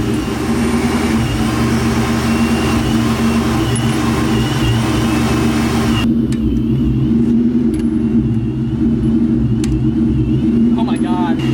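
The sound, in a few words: 1999-2000 Ford Mustang engine revving while driving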